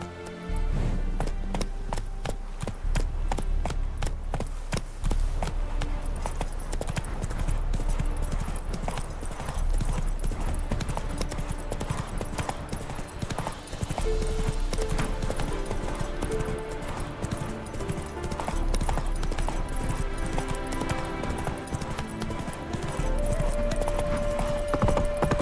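Horse hooves clip-clop steadily while being ridden at a continuous rhythmic pace, close and prominent throughout, with a faint steady hum underneath.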